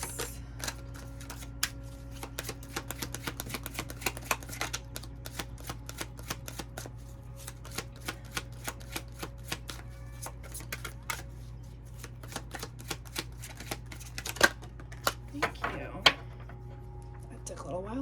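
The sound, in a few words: shuffling oracle cards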